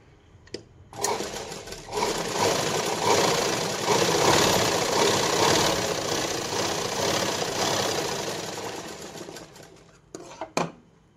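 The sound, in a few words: sewing machine stitching a blouse lining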